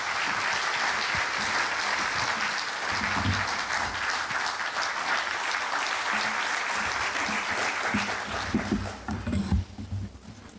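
Applause from a conference audience greeting the keynote speaker at the opening ceremony of an international corrections academic conference, a steady, dense clapping that fills the hall for about nine seconds before thinning into a few scattered claps.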